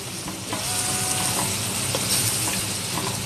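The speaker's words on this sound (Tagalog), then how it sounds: "Papabrown natin yung bawang at saka sibuyas." Garlic and onion sautéing in a frying pan, giving a steady, loud, close sizzle and hiss with light stirring throughout.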